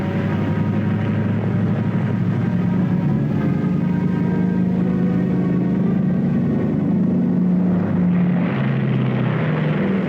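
A B-29 aircraft carrying the Bell XS-1 rocket plane gives a steady, droning propeller-engine roar that swells slightly toward the end, with no voices over it.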